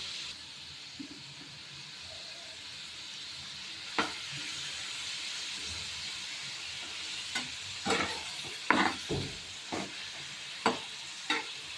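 Prawns frying in salt in a pan give a steady, soft sizzle throughout, broken by a few sharper crackles and stirring clinks toward the end, close up with no voices.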